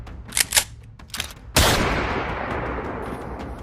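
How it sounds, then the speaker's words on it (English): Gunfire outside a university dormitory: a few sharp, separated cracks, then one loud close blast with a long decaying echo. "평화롭던 대학교 기숙사 앞에서 난데없는 총성이 울려 퍼졌습니다."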